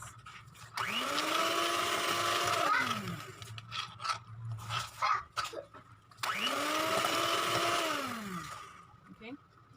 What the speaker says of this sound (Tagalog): So yun, let's start mixing.